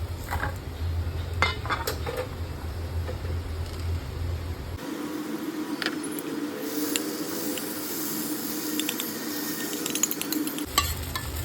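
Appe, crisp dumplings made from leftover idli batter, frying in an appe pan, with a steady close sizzle and occasional light metal clinks of a utensil against the pan.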